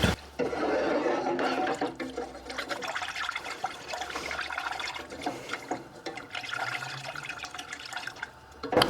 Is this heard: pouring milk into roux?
yes